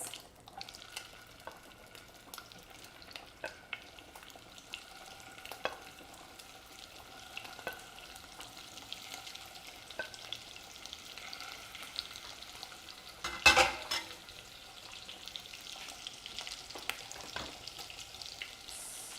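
A faint, steady sizzle of meatballs frying in a pan for Italian spaghetti and meatballs, with light scraping and stirring throughout and one louder clatter near the end.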